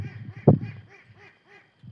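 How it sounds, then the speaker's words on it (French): Several ducks quacking nearby outdoors, a run of about five or six nasal calls in quick rhythm over two seconds with one louder burst near the start. "Je suis en toute compagnie de mes canards, ça fait plaisir."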